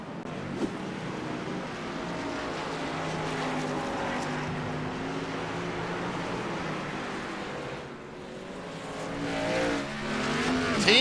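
Race car engines roar continuously in a sim racing video game featuring Xfinity series stock cars at Sonoma, a dense, loud, sustained drone of several cars with shifting pitch and no talk.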